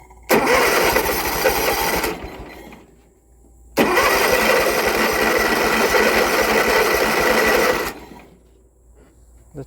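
A John Deere riding mower that sat unused for about two years runs loudly in two bursts, roughly two seconds then four seconds, with a steady rough engine drone and a brief quiet gap between.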